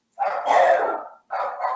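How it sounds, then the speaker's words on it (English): Dogs barking at home, two loud close barks with a brief pause between them, no talking over them. "The dogs are gonna go."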